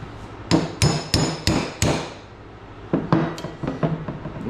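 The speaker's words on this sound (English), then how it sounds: "Give it a couple tappy taps." Sharp hammer taps ring out as a part is seated during a Honda Big Red 250es restoration, about five quick strikes, then a pause and another, softer run of taps, close and loud.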